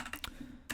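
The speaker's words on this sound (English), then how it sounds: "this is picking up a lot more keyboard sounds" Computer keyboard typing picked up by a TONOR USB condenser microphone: a few sharp, close key clicks at an uneven rhythm, quiet and alone with no voices.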